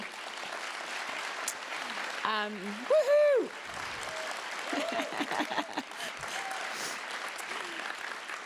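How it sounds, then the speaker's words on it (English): An audience at the Sydney Innovation and Research Symposium applauds steadily for about eight seconds, with a loud whooping cheer rising near the middle and scattered voices mixed into the clapping. "A big round of applause for you."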